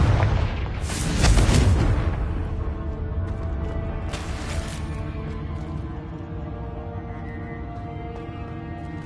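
Confringo blasting curse exploding in the video game Hogwarts Legacy, a loud booming blast around the first second or two that rolls off into a long rumbling tail, with a smaller burst later.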